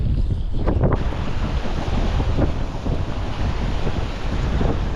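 Strong wind buffeting the microphone beside a river in Iceland during salmon fishing, a loud, continuous roar with gusty rumbling and no talking.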